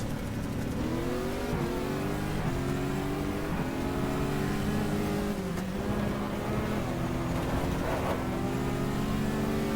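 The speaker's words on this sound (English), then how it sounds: "Let's see if we can cope with Wolleck-Halsen with the Porsche" Racing cars in the GTR2 sim at Willow Springs, including a Porsche, with a steady loud engine drone and rising and falling revs as gears shift, several cars heard together.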